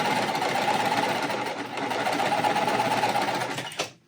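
A quilting sewing machine runs in one steady, close stitching burst as fabric feeds through, its mechanical whir holding even before stopping abruptly near the end.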